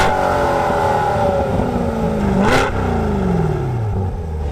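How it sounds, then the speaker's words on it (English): A Chevrolet Corvette engine runs loud and close, its pitch rising and falling through revs with a sharp burst midway, continuous throughout with no talking. "To start the Corvette, you also put your foot on the brake, push the start button. Wowzer, and it fires into life."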